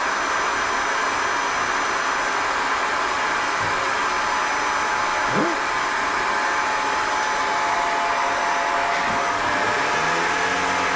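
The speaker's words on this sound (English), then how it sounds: "How'd you turn a Hoover on?" A Hoover vacuum cleaner runs steadily throughout with a loud, constant motor whine and broadband rush, no pauses, and no one speaking over it.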